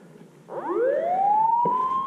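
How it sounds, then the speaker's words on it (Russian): A siren rises from a low growl to a steady wailing pitch in a sniper video game set during a siege, loud and alone after a brief quiet start. "И вот она, долгожданная сирена."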